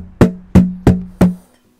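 A wooden cajon box drum with chains inside is struck four times at an even pace, up close and alone; each hit is a sharp, punchy thump with a short ringing tail before the next.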